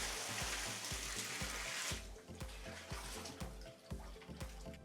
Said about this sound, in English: I will fill in about 100 liters of water.